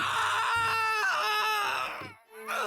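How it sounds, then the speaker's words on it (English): A cartoon ninja character in the Naruto: Ultimate Ninja video game lets out a long, loud, strained scream that rises and wavers, dropping away briefly near the end before starting up again. "Sasuke sure does scream for 10 seconds here."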